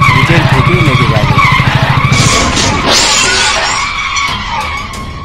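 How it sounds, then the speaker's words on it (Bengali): A motorbike's brakes lock into a screeching skid: an engine drone gives way to a loud, sustained tire squeal that fades over a few seconds, with no voices. "বাইকের ব্রেক নিজের থেকেই লেগে গেল।"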